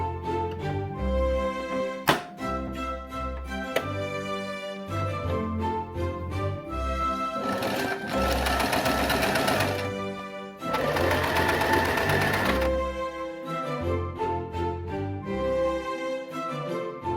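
A sewing machine stitches piping onto a silk taffeta collar, running close and steady in long bursts with brief pauses and changes in speed, with no talking.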